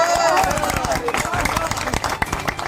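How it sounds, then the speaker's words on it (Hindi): Villagers clapping together at an outdoor gathering in Kharaich panchayat, Khaira block, a dense burst of hand claps and crowd murmur, loud and close. "ताली मारो।"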